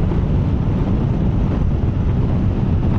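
Steady, loud wind buffeting a microphone while riding a 2023 Honda X-ADV scooter, a continuous low roar with no breaks and no speech.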